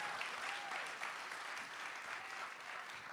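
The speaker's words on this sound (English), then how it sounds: "can we have a round of applause" Audience applause at a Working Families Party statewide political gathering, a steady wash of clapping from a crowd that holds evenly for about three seconds at moderate, slightly distant level with no talk over it.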